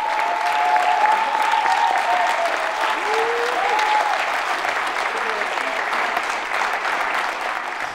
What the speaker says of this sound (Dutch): Als de arts in kwestie er zelf ook bij komt staan, ontstaat spontaan een daverend applaus.